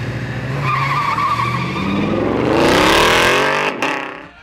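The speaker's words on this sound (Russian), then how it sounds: "Рев моторов и скрежет шин." Drag racing cars at an airfield in Tiraspol roar past with engines revving hard and tires screeching, a loud close rising sweep of engine pitch and skidding that swells and then fades.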